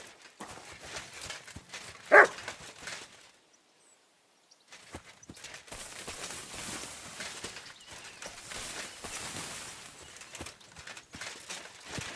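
A dog in the medieval world of the video game Kingdom Come: Deliverance 2 gives a single sharp bark, set among soft game ambience with footsteps and clopping hooves.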